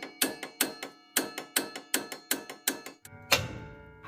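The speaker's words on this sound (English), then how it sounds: "If you miss it hitting here, you're gonna have to hit the nut instead of the thread." A hammer repeatedly strikes a nut threaded onto a CV axle during an install on a Dodge Ram, about a dozen sharp metallic clanks in a steady rhythm, close and ringing, ending with a louder rattling hit.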